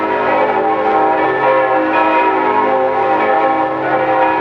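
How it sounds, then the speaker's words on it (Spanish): A chapel church bell rings out loudly and steadily, its bright sustained tones layered and ringing on without pause, heard close with no talking. "da orden de que atronen los aires con la campana de su capilla"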